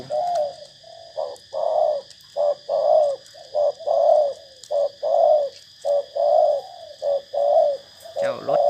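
A zebra dove (nok khao) gives a long, rhythmic series of soft, close coos in regular phrases, over a faint steady high whine, ending in a brief rustle.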